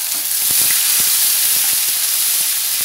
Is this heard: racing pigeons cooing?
no